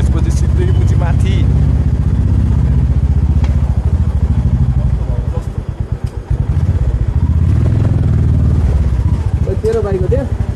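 A motorcycle engine runs steadily in a parking area, a loud, close, throbbing idle that dips briefly midway, while people talk over it.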